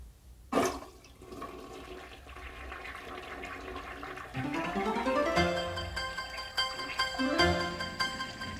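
Toilet flushing: a sharp click of the handle, then a rushing swirl of draining water that turns into a steady hiss and gurgle as the tank refills, close and fairly loud.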